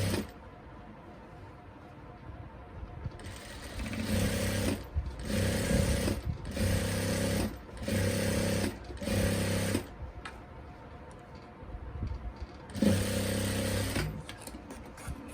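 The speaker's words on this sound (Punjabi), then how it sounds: "ਇਸ ਤਰ੍ਹਾਂ ਇਹ ਸਿਲਾਈ ਲਗਾਉਣ ਵੇਲੇ ਵੀ ਧਿਆਨ ਰੱਖਣਾ" A sewing machine runs in repeated bursts while stitching a plain salwar, each run lasting about a second with brief pauses between. The mechanical whir is close and steady, and no one speaks over it.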